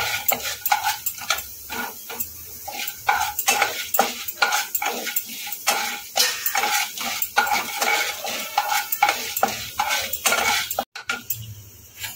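Chana dal frying in oil for upma and stirred in a pan: a metal spoon scrapes and clatters against the pan in quick irregular strokes over a faint sizzle.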